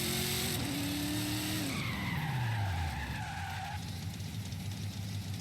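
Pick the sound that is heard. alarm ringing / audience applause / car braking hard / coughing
car braking hard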